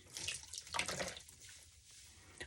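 Water splashes and trickles as a wig is rinsed and wrung out in a sink after soaking in shampoo, a faint, uneven wet rush with brief surges.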